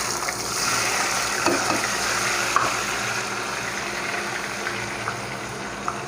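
Chana dal hitting hot ghee in a pan and frying with a steady, dense sizzle and faint crackles, continuous and close, with a few small clinks and no talking.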